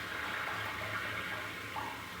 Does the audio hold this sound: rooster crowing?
no